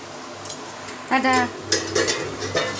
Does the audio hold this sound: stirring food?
yes